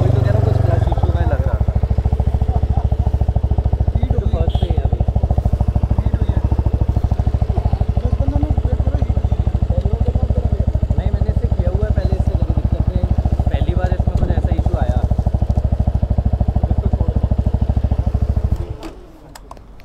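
A superbike with a slipping, sticky clutch runs in first gear on its main stand, its engine a steady, loud low drone that continues under nearby talking before cutting off abruptly at the end.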